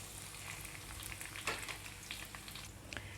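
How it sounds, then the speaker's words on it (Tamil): Chopped garlic and ginger sautéing in a pan, a soft continuous frying sizzle with occasional light stirring scrapes, fairly quiet and without voices. "ஒரு கோல்ட் கலர் வரும் வரைக்கும் இதை நல்லா வதக்கிக்கலாம் ஃப்ரெண்ட்ஸ்"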